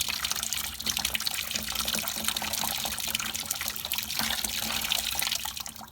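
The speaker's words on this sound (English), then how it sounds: "So we'll pour some of this through here." Hot water poured from a container heated over a fire, a steady close splashing and trickling stream lasting several seconds and tapering off at the end, with no talking.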